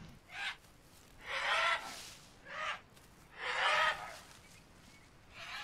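Birds calling in a jungle in the survival game Green Hell, heard as four or five loud, harsh squawking bursts at uneven intervals over a quiet background.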